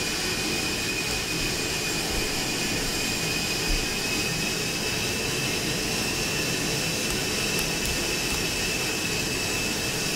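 L-39ZA jet trainer taxiing in the DCS flight simulator: a steady, loud jet engine whine and roar holds without a break throughout, with a high tonal whistle riding over broadband rumble.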